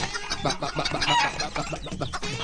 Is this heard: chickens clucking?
yes